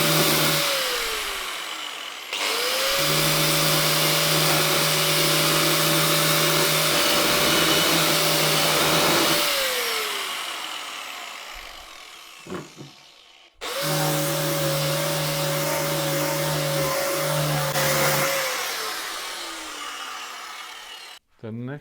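A Bosch 750 W corded 240-volt angle grinder with a universal grind disc spins up with a loud steady whine, runs several seconds, winds down when the trigger is released, and then starts again for a second run.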